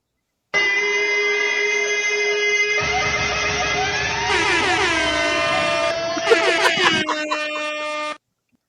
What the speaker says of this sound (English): Throwing a little extra air horn in there